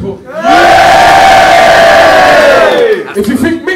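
A crowd at a rap battle erupts into loud cheering and shouting, a sustained roar of voices close by that holds for a few seconds before breaking into scattered whoops and fading.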